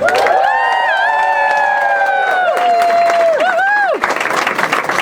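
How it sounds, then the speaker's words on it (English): A crowd welcoming special guest Steve Carell, owner of the Marshfield Hills General Store, erupts in loud whoops and high cheering that give way to a burst of close applause near the end. "let's give a big round of applause now for our special guest"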